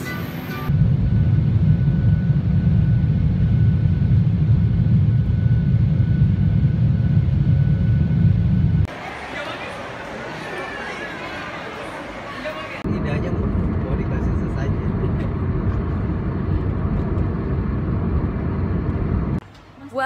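Airplane cabin engine noise, a steady loud low roar from the engines that drops away and then returns as a broader rumble, with people talking faintly underneath.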